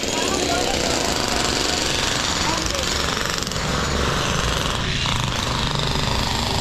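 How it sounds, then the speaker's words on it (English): Loud, continuous jackhammer drilling rattles nearby on an Indian street, a harsh pounding noise that fills the whole stretch while a voice talks underneath. "drilling right now here."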